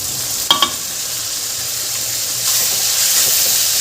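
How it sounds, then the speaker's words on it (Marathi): Finely chopped tomatoes drop into sizzling aloo palak with a couple of brief thuds early on, then a steady hiss of frying rises and stays loud and close. "हे बारीक चिरून घेतलेले टमाटर घालत आहे."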